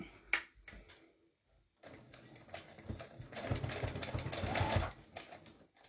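A sewing machine stitches a pillowcase in short bursts, brief clicks and a pause first, then a longer steady whirring run up close.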